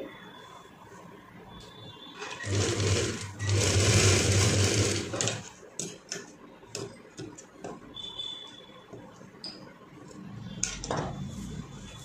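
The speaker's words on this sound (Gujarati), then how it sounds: "બીજી બાજુ પણ ખૂણામાં આપણે એ જ રીતે સિલાઈ કરી લેવાની છે" A sewing machine stitches the corner of a dhoti for a 4-to-5-year-old child, a nearby whirring burst of about three seconds followed by scattered clicks and fabric handling.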